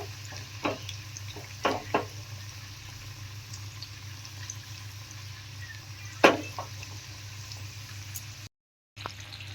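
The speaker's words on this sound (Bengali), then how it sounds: "বন্ধুরা, লো ফ্লেমে আস্তে আস্তে এটা ভাজতে হবে।" Pieces of chicken kebab fry gently in a pan on a low flame, a soft continuous sizzle broken by a few scraping stirs and clinks from a utensil.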